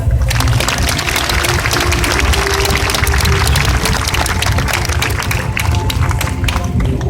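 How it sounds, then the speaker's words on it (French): Sustained applause from an audience at a fire rescue open day demonstration in Brignoles, loud dense clapping running steadily throughout without pause. "Je pense que ça mérite un premier applaudissement."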